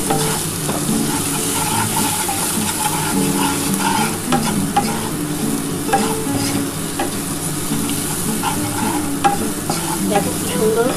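Ginger, garlic and tomato paste sizzling loudly in a pan with spices, a dense continuous fry with constant stirring scrapes, close up and without speech.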